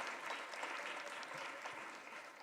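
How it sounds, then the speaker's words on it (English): Audience applause for caregivers at a 2016 luncheon panel, a dense, steady wash of clapping hands filling the room for the whole stretch, sustained at an even level without voices breaking through. "can we just have a huge, massive round of applause for caregivers everywhere?"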